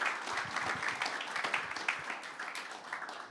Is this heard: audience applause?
yes